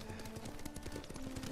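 Horse hooves clip-clopping at a steady riding gait in the video game Ghost of Tsushima, a continuous close rhythm with faint background ambience.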